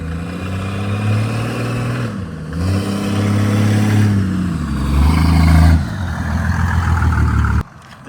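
A super-turbo OM603 diesel car with meaty tires accelerates hard, its loud close engine drone climbing in pitch through successive revs with a brief dip between gears, then cutting off abruptly near the end.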